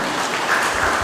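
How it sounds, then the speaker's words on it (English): Audience at a general assembly applauding for Mr. Jimmy Ward, a brief loud burst of dense clapping close by. "let's give him a big round of applause"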